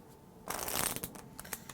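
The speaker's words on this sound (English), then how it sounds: "So we have the cards cut and shuffle." A deck of playing cards is cut and shuffled by hand for a card trick, a short close riffle burst after a brief quiet moment, followed by a few light taps as the deck settles.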